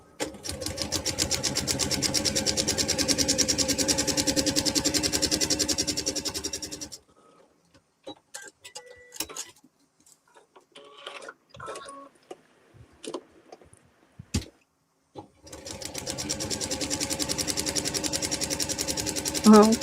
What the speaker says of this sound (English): we can do a lot of chain sewing